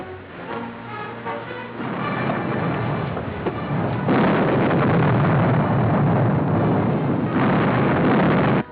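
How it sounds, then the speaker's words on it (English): Cannon fire from a pirate ship in an old radio serial about Captain Kidd, heavy booming bursts rolling into a sustained loud roar that swells and holds through the second half, with no voices. "When the captain refused, Kidd opened fire."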